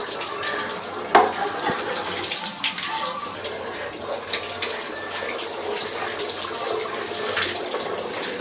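Water runs steadily, as from a tap or hand shower, to rinse conditioner out of the hair on a hairstyling dummy, with a continuous close splashing and one brief louder clatter near the start.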